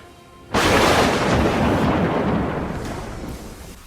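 A lightning smash effect in a game-based fantasy fight, a sudden loud crack and booming rumble that bursts in early, then decays slowly over a few seconds, alone without voices.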